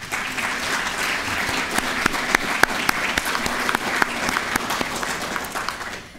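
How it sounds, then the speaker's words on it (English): Steady, full audience applause at a workshop on ending wars and building peace, dense clapping held at an even level for about six seconds with sharper individual claps standing out close by. "would you join me in a round of applause for the Institute of Peace"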